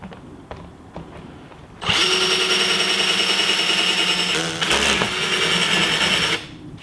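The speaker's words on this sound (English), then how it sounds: "Whenever I drill something, I like to back it with a piece of wood so that when the drill pops to the other side" A power drill bores a half-inch hole through a Mopar tailgate panel backed with a piece of wood. It gives a loud, steady whine for about four and a half seconds with a brief dip near the end before cutting off.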